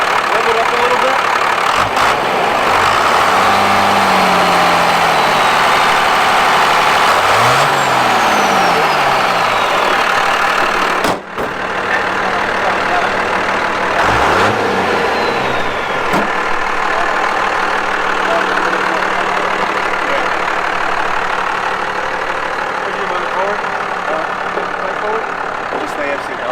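A First Gen Cummins diesel truck engine runs loud and steady, idling with a rough rumble and rising in a few revs, with voices talking over it.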